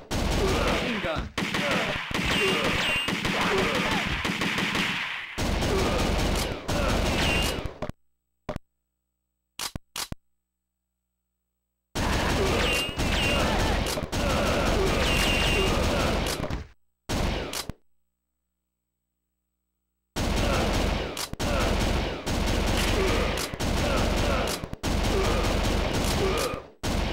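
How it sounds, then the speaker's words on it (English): Bursts of machine gun fire from the Virtual Cop 2 arcade shooter, coming in several loud dense volleys separated by short silent gaps, with shouting voices mixed in. "Machine gun."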